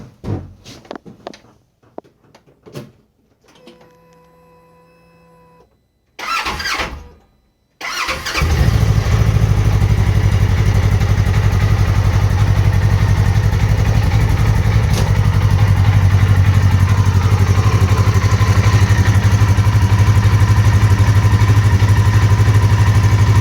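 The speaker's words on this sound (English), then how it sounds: "We're going to start this RZR for the first time after about 12 days sitting." A Polaris RZR 1000 side-by-side engine cranks from cold after about 12 days sitting, with a few clicks and a short crank before it catches and settles into a loud, steady idle close by.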